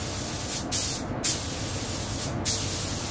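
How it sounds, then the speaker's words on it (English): Spray gun bursts in a paint booth at a HIMARS rocket system factory: three short hissing sprays over a steady loud air-handling roar, no talk. "Paint booth entry cycle initiated."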